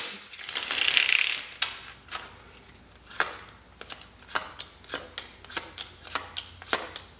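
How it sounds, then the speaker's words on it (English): A tarot card deck is shuffled close up, starting with a soft riffling burst and followed by a run of quick, regular crisp snaps as the cards are cut and squared, with no talking. "One more shuffle."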